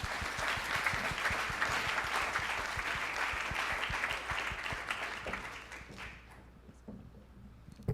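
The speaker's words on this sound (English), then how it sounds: "another round of applause for our great presenters" An audience gives a round of applause for senior thesis presenters, many hands clapping steadily and fairly loud, then thinning to scattered claps as the applause fades out near the end.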